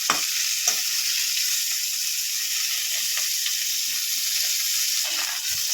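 Cauliflower browning in hot oil without spices, giving a steady close sizzle throughout with a few soft stirring knocks and scrapes, and no voices.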